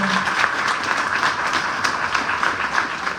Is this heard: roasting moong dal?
no